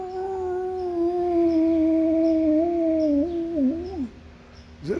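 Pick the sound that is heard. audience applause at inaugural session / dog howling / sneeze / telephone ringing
dog howling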